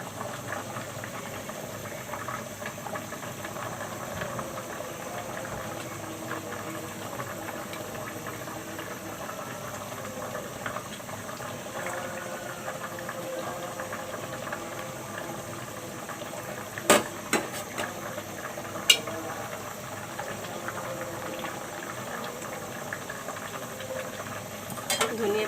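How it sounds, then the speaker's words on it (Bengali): A pot of hilsa curry with mustard and almond paste boils at a rolling simmer, giving a soft, continuous hiss and bubbling with a few faint clinks near the end. "এখন বলক উঠে গেছে।"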